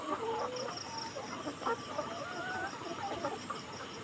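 Many 185-day-old laying hens on a poultry farm in hot weather cluck and chatter at once in a steady, busy flock din, with no talking over it.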